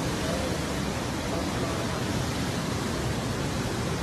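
Heavy monsoon rain and a swollen mountain river rushing in flood, a dense, unbroken roar of water that stays loud and even for the whole stretch.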